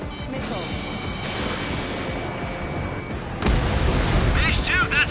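Missile explosions in the Ace Combat 7 jet combat game: a steady roaring blast bed swells into a louder, heavier burst midway, with chirping warning tones near the end.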